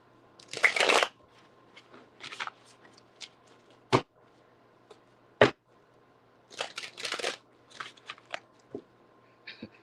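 Tarot cards being shuffled by hand in bursts, crisp riffling rustles separated by quiet gaps, with a few sharp single snaps of cards being tapped or cut, close and clear.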